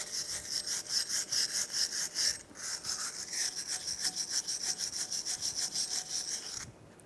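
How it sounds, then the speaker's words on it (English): A wire brush scrubs corrosion off the front wheel hub of a 2007-2013 Mini Cooper during a brake job, giving a steady run of rapid back-and-forth rasping strokes, close and fairly loud, with a short pause midway and no talking. "You wanna take a wire brush and just clean up the hub surface a little bit."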